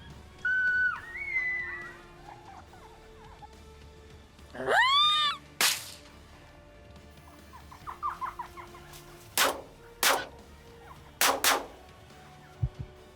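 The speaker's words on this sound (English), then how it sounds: "held his breath, tightened the trigger, bang" A rifle shot fired by a hunter stalking foxes in the Australian grassland, a sharp sudden crack ringing out amid bird calls, chirps and short rustling noises.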